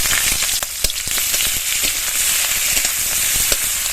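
Panch phoron and chopped onion frying in hot mustard oil make a steady, bright sizzle with sharp popping crackles scattered throughout, close and fairly loud, with no voices.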